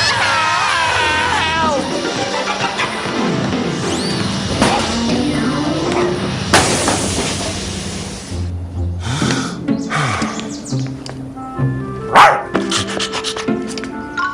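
A dog barks in an animated cartoon, short yaps and woofs scattered among busy speech and comic sound effects, fairly loud and close.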